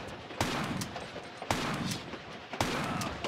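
Three loud shotgun blasts from Lara Croft in Tomb Raider 4, evenly spaced about a second apart over a steady rumbling background, with no talking.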